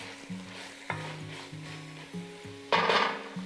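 A spoon tapped against a pot while cooking Thai panang curry, a handful of distinct close metallic clicks and knocks over a faint background sizzle, with a louder scraping clatter toward the end and no talking.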